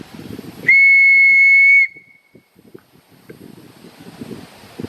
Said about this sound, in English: So I'm gonna blow my whistle real quick. Why? Well, it's a way to signal to everybody else in the camp